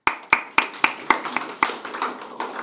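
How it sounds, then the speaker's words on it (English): A small audience at a business forum on green energy claps. A handful of sharp, separate claps come first, then they loosen into thinner, uneven applause that fades quickly. "Let's give him another round of applause."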